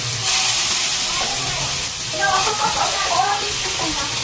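Shrimp fry in a hot pan for a carbonara, a steady bright sizzle and hiss close by, with a voice talking over the cooking.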